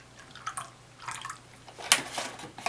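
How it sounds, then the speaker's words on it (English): Half and half pours into a mixing bowl for chocolate cherry scones, giving a soft liquid splashing and trickling in a few short bursts, close and fairly quiet. "we're going to take 1 cup of half and half. Just pour that"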